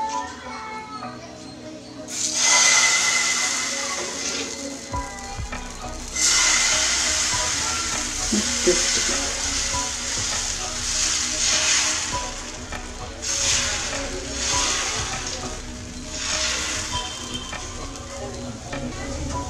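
Ragi (finger millet) dosa batter poured onto a hot tawa over a gas flame, giving a steady broadband sizzle with bursts of hiss as it spreads; a voice talks at times, and scraping and clinks from utensils occur.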